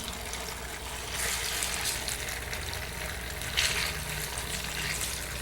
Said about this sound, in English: 4 sizzling steaks of tofu.